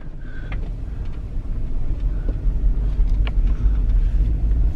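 A Jeep's engine runs steadily as heard from inside the cabin, a continuous low rumble with faint road and wind noise and no talking.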